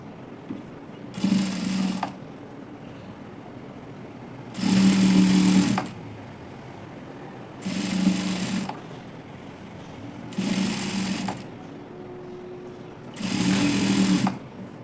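Sewing machine stitching lace onto a frilled sleeve, five separate bursts of fast rhythmic stitching, each one to two seconds long, with quiet pauses between them, close and clear with no talking.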